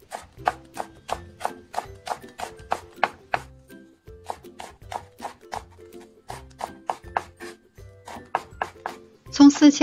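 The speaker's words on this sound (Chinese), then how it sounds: "再来切一些白色和绿色的葱丝" A knife rapidly chops white and green scallion into fine shreds on a board. Crisp, evenly spaced close-up thuds come in quick runs with brief pauses between them.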